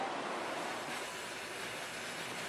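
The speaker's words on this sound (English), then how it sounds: "The train's on the move again, climbing high up in the mountains once more." A cartoon train climbs through high mountains, giving a steady rolling rumble with faint wheel clatter, continuous and fairly close, with no voices.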